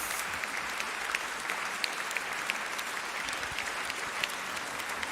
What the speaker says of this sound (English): I guess that deserves a round of applause, doesn't it?